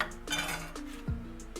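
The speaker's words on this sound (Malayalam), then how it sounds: "ഇനി നമുക്ക് ഒരു പാത്രം അടുപ്പത്ത് വെച്ച്" A cooking pot set on a stove burner while making chicken kheema biryani produces a few close metallic clinks and knocks over a quiet kitchen background, with no talk.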